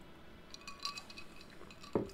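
Cocktail glasses clink together in a toast within the factory game Satisfactory, a few light glassy chinks followed by one brighter, louder clink near the end, faint and alone.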